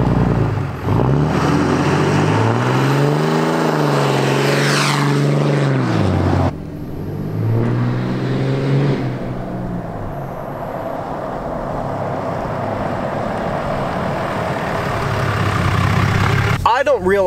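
A loud diesel engine of a 2018 pickup truck with a 6.7 Cummins revving and rising in pitch, then dropping back, with a second surge and a steady idling rumble, close by.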